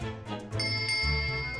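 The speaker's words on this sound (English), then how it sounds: "Yes, it's a bell cord." A bell cord is pulled in a ship's cabin in The Great Ace Attorney, giving a few bright ringing dings that sustain over a low musical background.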